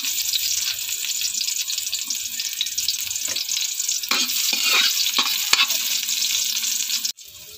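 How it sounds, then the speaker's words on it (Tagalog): Garlic and then onion sauté in a little hot oil, giving a steady, close, bright sizzle broken by scraping stirs. The frying hiss stays loud for the whole stretch and cuts off abruptly near the end. "Nagpainit na ako ng kunting mantika. Ilalagay na natin ang bawang. Ukay-ukayin. Sabay isunod natin ang sibuyas."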